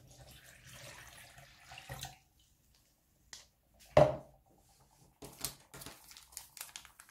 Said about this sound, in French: Je vais rajouter donc mon eau.